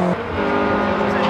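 Honda rally car charging a stage jump at a rally, a loud engine roar as it passes close, with spectators cheering and shouting over the engine.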